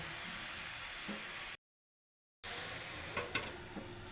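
Drumstick flower mash stirred and mixed in a hot pan gives a steady hissing sizzle with scraping strokes, cut by a brief silent gap, then a few sharper scrapes.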